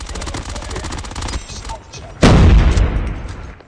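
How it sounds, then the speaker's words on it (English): Suppressed MX9 gunfire in Cod Mobile, a rapid burst of muffled automatic shots rattling for over a second, followed after a short pause by a loud, sharp blast that rings out and fades. "Suppressor on MX9 feels good."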